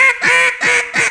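Three loud, close quacks come from a duck call blown as a hunting-style hail call, each note short and nasal with brief gaps between them.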